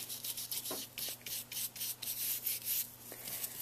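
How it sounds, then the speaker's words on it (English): A stippling brush worked in rough strokes to sweep excess gold leaf off a stencil, giving quick, close, soft scratchy brushing bursts over a faint steady hum. "with the same stippling brush, just kind of using a rougher stroke, am brushing off the excess"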